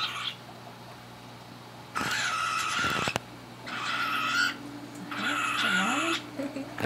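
A cockatiel being fed makes odd raspy, hissing bursts, several rough noisy squawks separated by pauses, close and fairly loud, with people talking quietly in between.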